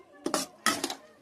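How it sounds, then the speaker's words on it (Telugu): Two quick clusters of metal utensils clinking against dishes while curry is served, close and bright. "కూరను మనం ఇప్పుడు సర్వింగ్ చేసుకుందాం."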